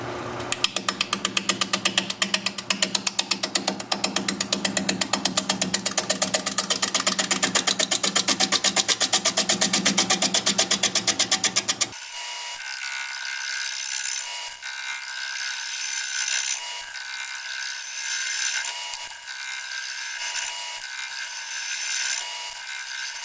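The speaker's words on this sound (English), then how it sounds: "We're going to be turning at 500 RPM, 5/8 inch bowl gouge, mask," Bowl gouge cutting an oak burl bowl on a wood lathe spinning at 500 RPM, giving a steady, loud rhythmic chatter that shifts partway through to a lighter, thinner scraping hiss.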